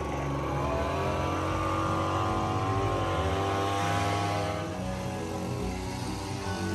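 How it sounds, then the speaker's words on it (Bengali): A leaf blower clearing fallen leaves outside a house, a loud continuous droning engine whine that holds steady throughout with slight pitch wavering. "এই ব্লোয়ার স্টার্ট করে দিল।"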